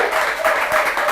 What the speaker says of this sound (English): I want to let my audience make some noise and a big applause for them